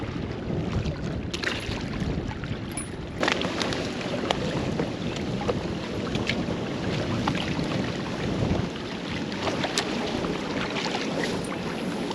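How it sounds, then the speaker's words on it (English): Strong wind gusts roar steadily across an open bass-fishing boat on the water, a loud, continuous rushing buffet with no voices. "that wind's blowing a little bit too hard now"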